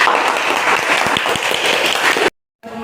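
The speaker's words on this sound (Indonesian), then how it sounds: "Sekali lagi beri tepuk tangan kepada beliau." Loud applause from a school audience at a junior high drama staging the 1928 Youth Congress, following the singing of Indonesia Raya: dense, steady clapping for over two seconds, then cutting off abruptly to near silence before faint room sound returns.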